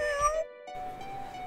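Cat meowing in the Animal Jam video game, two short tonal meows separated by a brief silence, the first rising and the second held steady, close and clear.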